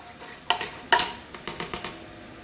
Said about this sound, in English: I'm just going to give that a little stir